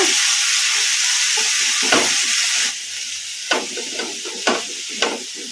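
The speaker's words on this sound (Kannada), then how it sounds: "ಪುಂಡಿ ಪಲ್ಯ ಚೆನ್ನಾಗಿ ಮೆತ್ತಗೆ ಫ್ರೈ ಆಗೋವರೆಗೂ ಈ ಥರ ಕಲಿಸ್ಕೊಂತ ಫ್ರೈ ಮಾಡ್ಕೊಂಡ್ಬಿಡೋಣ" Pundi (gongura) leaf curry fries in a pan with a steady, loud sizzle, while a spatula stirs and scrapes through it several times.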